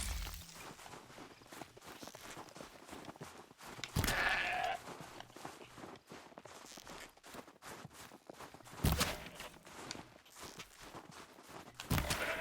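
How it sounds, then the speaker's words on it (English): Goat bleats from Horizon Zero Dawn, a few short cries spaced through a soft ambient bed with light footsteps, no talking. "this is the same goat I shot"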